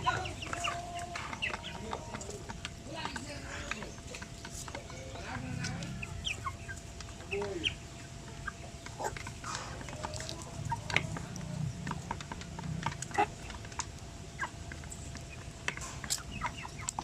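Native chickens waiting for food cluck and call steadily, with a scattered flock nearby and occasional rooster-like notes over a constant farmyard background.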